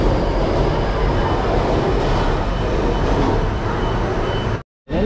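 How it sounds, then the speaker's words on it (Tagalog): Taipei MRT metro train arriving at a station platform on the airport transfer line, a loud, steady roaring rush of wheels and air that holds constant before cutting off abruptly near the end. "maghintay lang tayo ng MRT dito guys"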